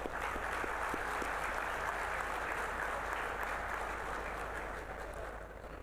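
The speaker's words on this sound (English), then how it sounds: "I think they deserve a huge applause again." Sustained applause from a convocation audience at a Bengaluru campus, a dense even wash of clapping that holds steady for about six seconds, then eases slightly toward the end.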